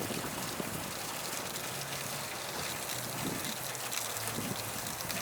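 Cold mountain stream water in the Tulail Valley flowing steadily, a continuous broad rushing wash with a low hum underneath, fairly close and unbroken throughout.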